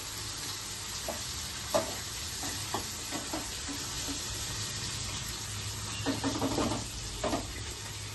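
Soaked chana dal frying in oil, a steady close sizzle with occasional stirring scrapes rising over it.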